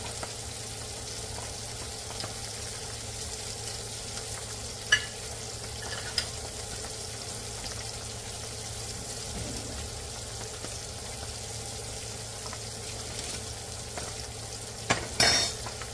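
Salmon skin fries in a pan with a soft, steady sizzle, close but quiet, broken by a few faint utensil clinks and a brief clatter near the end.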